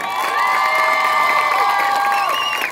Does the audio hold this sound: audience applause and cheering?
yes